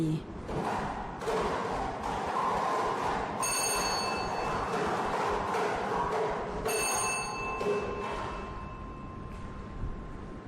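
Lao lottery drawing machine spinning its number balls, a steady rattling churn heard under a man's announcements, with two bursts of ringing bell-like tones partway through.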